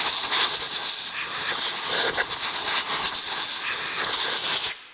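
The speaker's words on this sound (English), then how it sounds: "I'm just going to take my compressed air" Compressed air blasts spilled fuel off a Porsche engine with its C.I.S. fuel injection system: a loud, steady, broadband hiss that holds close and continuous for nearly five seconds, then cuts off abruptly.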